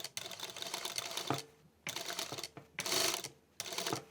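A sewing machine stitches a brand label onto a hoodie, running in three or four steady bursts of rapid mechanical whirring separated by short pauses.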